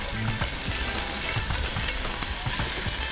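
Candied peel searing in neutral oil inside a Dutch oven cooking outdoors, a steady loud sizzle and crackle with frequent small pops running throughout, no voices.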